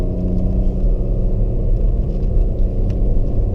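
A Ford Fiesta ST MK8 hatchback engine pulls at full throttle up a steep climb, producing a loud, steady, deep rumble that holds without a break, with no voices over it.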